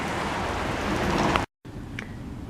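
Heavy rain pours down in a dense, steady hiss, loud and close, briefly cutting out before resuming more faintly.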